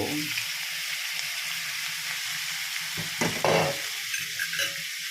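Pork intestines fry in a pan for adobo, giving a steady close sizzle with brief stirring scrapes and louder bursts near the end.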